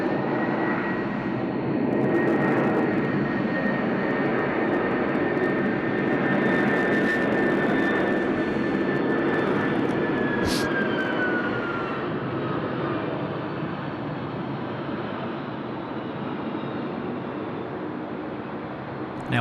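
A heavy jet aircraft departs the runway at Sydney Airport at night, its engines giving a loud sustained roar with a whining tone that slowly falls and fades, alongside intermittent talk.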